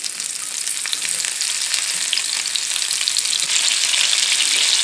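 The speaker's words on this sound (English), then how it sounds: "I've got some yellow onion here, and I want to caramelize some of these yellow onions" Yellow onions caramelize in hot bacon fat, giving a steady, dense sizzle with crackle that holds at an even level throughout, close by with no talking.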